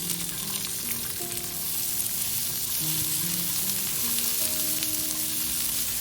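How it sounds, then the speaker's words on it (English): Green beans stir-fried with chicken in a hot pan, a steady, close, loud sizzle with scraping stir strokes and no voices. "Then add the green beans. Stir fry for about a minute."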